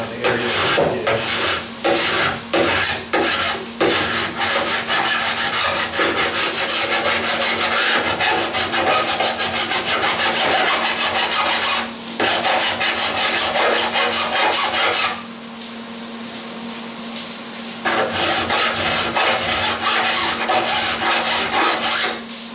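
A hand file rasps back and forth over welded, beveled sheet metal on a 1977 Camaro Z28 trunk, loud and close, in steady rhythmic strokes with a short pause midway.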